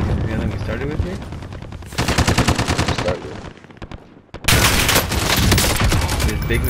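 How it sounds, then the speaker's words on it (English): Loud, dense machine gun fire from a video game, sustained bursts with a short lull near the middle before the firing resumes at full intensity; a voice can be heard faintly under the shooting. "This big machine gun?"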